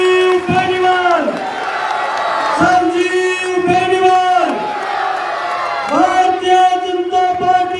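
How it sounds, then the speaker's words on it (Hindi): A crowd at a welcome rally for BJP candidate Sanjeev Beniwal in Malkheda shouts and chants in loud, sustained waves, with an amplified voice calling out over the noise. "जोरदार तालियों के साथ स्वागत"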